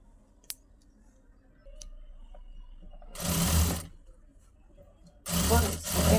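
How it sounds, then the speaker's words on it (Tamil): A sewing machine stitches a lined blouse in two short, close bursts of rapid whirring, separated by quiet stretches with a few small clicks and handling noises. "செகண்ட் தையலுமே நம்ம போட்டுக்கிட்டு வந்துடுறோம் பாருங்க"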